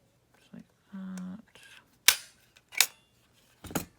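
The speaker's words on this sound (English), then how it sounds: "I'm gonna staple that down." A stapler driven down through avocado-dyed lace on a junk journal page, giving a few sharp, close clacks spaced about a second apart, with soft handling rustles between.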